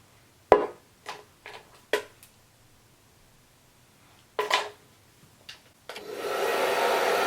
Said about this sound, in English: It's my blow dryer.